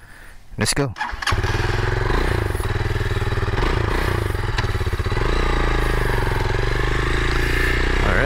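A 2021 Rusi Classic 250i fuel-injected motorcycle starts and pulls away, its steady engine drone loud and close for the whole ride, with a brief spoken remark near the start.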